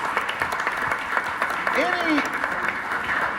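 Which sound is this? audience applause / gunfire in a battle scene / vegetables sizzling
audience applause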